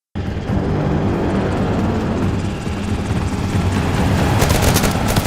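Helicopter in a tense action drama scene, a loud, steady rotor roar with a dense thumping wash that swells slightly toward the end, no speech.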